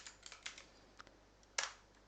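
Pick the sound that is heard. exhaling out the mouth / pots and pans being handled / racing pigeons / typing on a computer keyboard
typing on a computer keyboard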